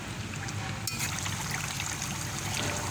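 A cup of water is poured into a pot of chicken karahi, giving a steady trickling stream over a constant background hiss, with a brief sharp splash near the start.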